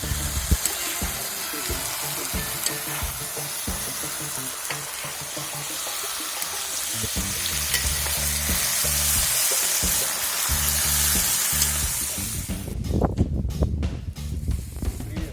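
Pork trotters with tomatoes and bell pepper stirred in a cauldron, a continuous sizzle with rhythmic scraping and stirring strokes, then a louder, rougher burst of clattering movement near the end, no speech.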